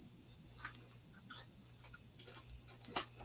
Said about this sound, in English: We hear them crickets again.